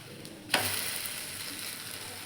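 A bottle gourd and moong dal cheela on a hot pan sizzles steadily after a sharp clack at the start, a close, even frying hiss continuing to the end without talk.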